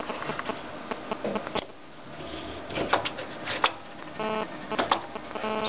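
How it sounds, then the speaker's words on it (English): An HP DesignJet 450C plotter's carriage shuffles and clicks during its startup sequence, searching for the encoder mark on the platen: short mechanical whirs, ticks and buzzing bursts at close range with no one speaking. "the carriage is now sitting there searching for the little mark on the end of the platen"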